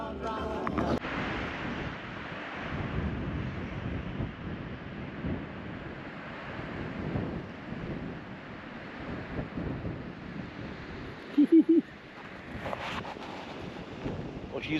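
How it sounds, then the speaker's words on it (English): Wind and rain outdoors on a mild, miserable day buffet the microphone in a continuous, loud rushing roar across the whole stretch, with brief muffled knocks near the end. "she's definitely rainy and windy, guys."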